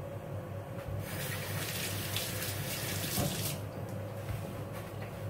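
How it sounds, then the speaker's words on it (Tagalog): Water running and draining in a kitchen sink while preparing adobo, a steady close pouring and splashing rush that continues throughout with a brief clatter partway through. "I-drain nyo po muna ang tubig nito."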